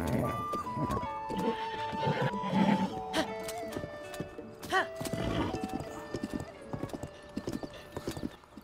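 Clip-clop hoofbeats of a horse galloping in the video game Zelda: Tears of the Kingdom, a steady rhythmic trot amid game music tones and a brief whinny, with no talk over it.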